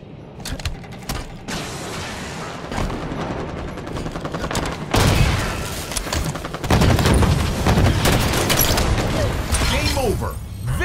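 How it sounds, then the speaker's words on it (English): Rapid gunfire in a video game, sharp repeated cracks and bursts with heavier volleys near the middle and end, played loud while people talk over the action. "Sniper rifles ready."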